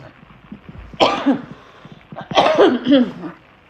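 Two close coughing fits, each a harsh burst followed by a few rough, raspy coughs, with quiet background between them.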